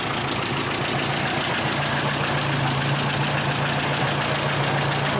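A 1929 Whippet car engine runs steadily after starting, a loud close rumbling idle with a rapid mechanical clatter throughout.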